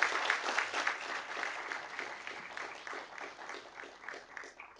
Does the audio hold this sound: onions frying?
no